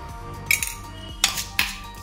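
Cooked taro stalks with red chili and salt are stirred in a pot, producing three distinct metallic clinks of a spoon against the vessel, close and sharp over a quiet hum.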